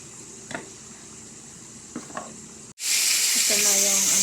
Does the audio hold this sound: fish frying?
yes